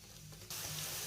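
Onions and green chillies sizzle in hot oil over a high flame for a budget biryani, a soft hiss that jumps to a loud, dense, steady crackle halfway through.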